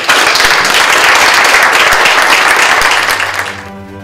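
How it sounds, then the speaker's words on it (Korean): Loud close applause fills the room at a National Assembly forum on the Fourth Industrial Revolution and education reform, dense clapping from a seated audience that holds steady, then quickly fades out near the end. "박수 한번 주시죠."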